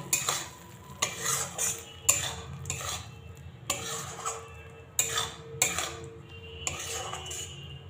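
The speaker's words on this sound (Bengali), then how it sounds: "এবার আমি খুব ভালো করে মিশিয়ে দেব।" Spices stirred in a pan for a soya chunk and spinach curry, a utensil scraping and clinking in repeated bursts about once a second, close up, over a low background hum with no talking.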